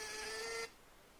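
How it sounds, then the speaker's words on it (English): A NIIMBOT B1 portable label printer runs a label, giving a short, steady whirring feed that stops abruptly, close and fairly quiet, with no talking. "I'm gonna hit print"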